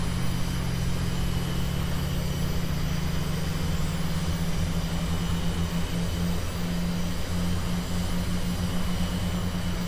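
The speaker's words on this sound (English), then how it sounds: "Fuel on, engine lighting off nicely." Turbine engine of an AH-94 helicopter in VTOL VR runs up during start, a steady loud whine with a low rumbling hum that holds constant throughout, with no voices.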